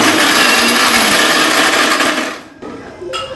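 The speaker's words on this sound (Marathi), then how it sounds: "मिक्सरला लावते मिक्सरला लावल्यानंतर ती खूप मस्त पण वाश येतो आहे" A kitchen mixer grinder whirring loudly as it grinds dry garlic and coconut chutney for vada pav, steady and close, then cutting off with a brief clatter at the end.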